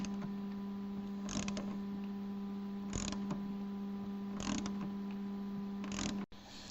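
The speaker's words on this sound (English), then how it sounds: "1/2 inch bolt until I feel the nutsert crush completely. When I'm doing this, I'm holding the head of the ratchet" A ratchet tightening a nutsert on a Jeep Wrangler JL rear fender, giving faint clicking bursts at about one-second intervals over a steady electrical hum.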